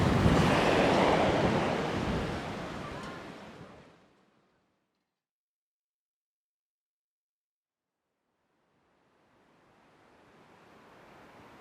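Wind and surf wash loudly along the shore of Haeundae Beach in Busan, a dense roar for about four seconds that fades to near silence, then a softer surf hiss swells back in toward the end.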